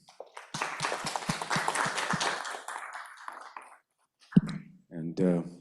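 A conference audience claps to thank a mathematics speaker at the close of the final talk, a few seconds of steady applause that fades out, followed by a brief voice.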